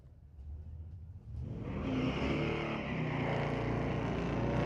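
Drag racing engines of a 2019 Camaro with a 455 cubic inch engine and a 1984 Chevy S10 with a 383, at a street-legal drag night at a raceway: a quiet idle swells into a loud, sustained roaring run.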